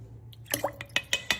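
A tablespoon of grenadine going into a holiday drink gives a quick run of small drips and splashes, close and clear. About five or six sharp liquid ticks sound in quick succession.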